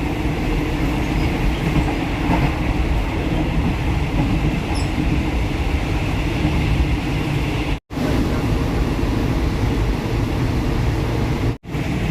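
A third-class fan-cooled ordinary train, No. 258 running toward Thonburi, rumbles loudly and steadily throughout, a continuous close rail and carriage roar with two brief dropouts and no speech.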